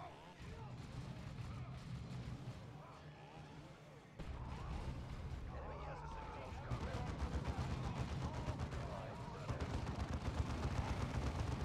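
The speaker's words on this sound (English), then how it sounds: "Suppressive fire!" Sustained gunfire and explosions from a Warhammer video game battle, a dense steady barrage of shots that grows louder partway through, with voices talking over the combat.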